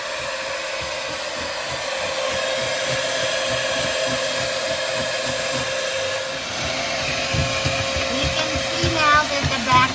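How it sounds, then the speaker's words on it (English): A hair dryer blows steadily to melt built-up ice in an RV freezer while a spatula scrapes the back wall, its constant whirring drone close and continuous, with faint scraping and a shift in pitch partway through. "He's scraping the back wall with the spatula as he uses the hair dryer to warm it"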